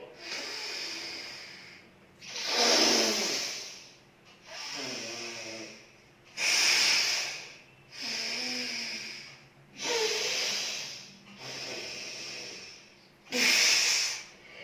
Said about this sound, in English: I'm going to inhale through my right and exhale through my left